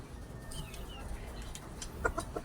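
Chickens cluck softly in the background, with a few brief calls and a quick series of clucks near the end, fairly faint.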